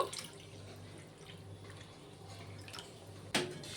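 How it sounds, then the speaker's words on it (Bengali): Water goes into a pan of fried onions for a hilsa fish curry, giving a steady wet hiss and splash throughout, with a brief sharp clink near the end. "এখন জল দিয়ে দেবো যতটা আপনারা ঝোল চান সেই অনুযায়ী জলটা দেবেন"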